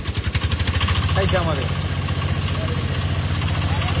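A trawler boat's engine runs at a steady, rapid low thumping, close and loud, and keeps going throughout. A person's voice speaks briefly over it.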